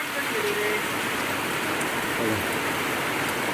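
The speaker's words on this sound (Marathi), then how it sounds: "कसलो पावस येलो बघा पावळे कशे गळतात" Heavy monsoon rain pours and drips from house eaves in Parpoli, a Konkan village, making a steady, dense hiss that fills the whole moment without pause.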